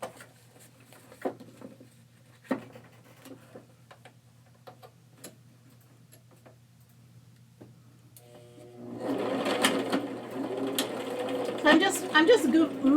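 Sewing machine top stitching a zippered pouch, quiet ticks and taps at first, then a denser mechanical whirring run of stitches in the last few seconds, close by.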